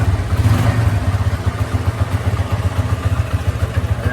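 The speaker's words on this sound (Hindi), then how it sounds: "यहाँ देखिए, कटक कटक की आवाज़ जो आ रही है, ये हेड की नहीं है, आपकी ब्लॉक में है।" A motorcycle engine idles close up with a steady low rumble, a loose piston knocking in the block as a fast, regular clatter running throughout.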